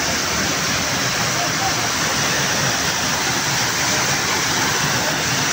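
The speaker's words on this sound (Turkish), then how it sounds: "Şelale üstümüzden akıyor." Düden waterfall pouring over a cave in Antalya, water dripping from the ceiling: a steady, loud broadband rush of falling water fills the whole stretch without a break, close and enveloping.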